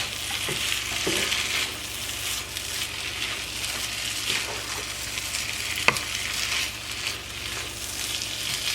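Fresh corn fries and sizzles in a skillet for Southern creamed corn, with a steady crackle broken by occasional scrapes and clinks of a spoon stirring against the pan.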